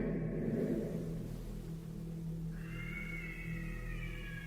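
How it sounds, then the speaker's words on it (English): A faint, drawn-out cat meow rises over a low, constant rumble, somewhat distant and quiet. "There's a cat."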